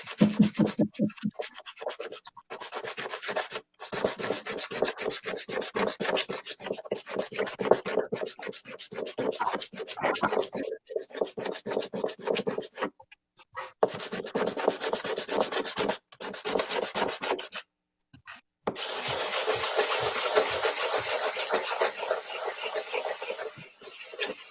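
Steady, rough sanding strokes rasp back and forth on a custom lightsaber hilt, close and loud, with brief pauses between bursts and no talking.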